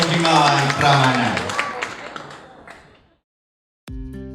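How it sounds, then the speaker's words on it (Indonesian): Audience at an event for the Kediri regent breaks into loud applause that fades away over about three seconds, then a short tonal sound cuts in after a brief silence. "Berikan tepuk tangan yang luar biasa untuk Mas Bupati Kediri kita, Mas Hanindito Himawan Pramana"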